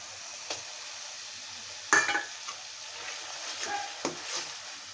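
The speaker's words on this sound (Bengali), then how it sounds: "দেখেন এখন আমি কালি জিরা বাটাটা দিয়ে দিব" Black cumin (kalo jeera) paste added to a hot pan for a spicy Bengali mashed relish, frying with a faint steady sizzle and a few sharp stirring clacks of utensil against pan.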